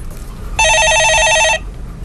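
A telephone rings in a Korean stock-market call-in broadcast studio: one loud, close electronic trill lasting about a second, standing out over a quiet room background with no talking.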